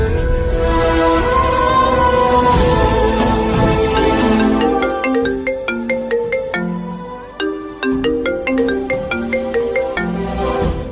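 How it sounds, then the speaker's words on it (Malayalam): A mobile phone ringtone plays during a stage skit, a loud, bright melodic tune of repeated notes filling the whole stretch with no voices over it. "ജോസൂട്ടി, നീ ആ ഫോൺ എടുത്ത് അവളെ ഒന്ന് വിളിച്ച്."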